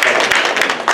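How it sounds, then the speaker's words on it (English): An audience at an afternoon conference session claps, with a brief burst of many overlapping hand claps at a moderate distance. "Clap if you're out there."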